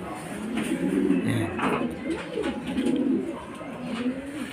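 Racing pigeons back at the loft after a race, their low throaty cooing rolling on continuously and close, with soft rustling and a voice talking now and then.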